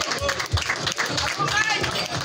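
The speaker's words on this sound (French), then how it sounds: "Vous pouvez applaudir Mike Borowski, s'il vous plaît." A crowd at an evening gathering applauds and cheers the host Mike Borowski. The clapping is thick and continuous, with voices and crowd noise mixed in throughout.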